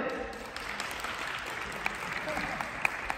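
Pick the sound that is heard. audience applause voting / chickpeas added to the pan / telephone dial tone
audience applause voting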